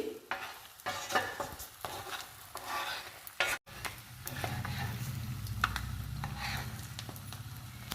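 Egg pieces fry in oil for a spicy Guntur chilli dish, a steady sizzle with scraping stirs of a utensil against the pan, briefly cut by a short gap before the frying continues evenly and close.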